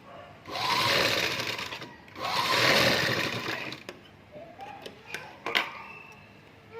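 A sewing machine stitches a blouse in two long, loud whirring runs close by, followed by lighter ticking and clicking of the mechanism between stops.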